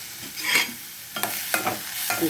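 Onion, coriander, ginger garlic paste and green chili sizzle and get stirred in a hot pan, a steady frying hiss broken by a few scraping stirs, close and fairly quiet with no talk.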